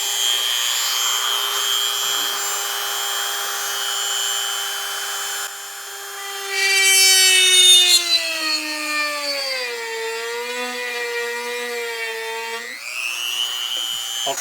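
Goxawee rotary tool spinning a drill bit into wood, a steady high whine that sags and rises in pitch as the bit bites and burns, with scraping grind mid-cut, close and loud, no speech.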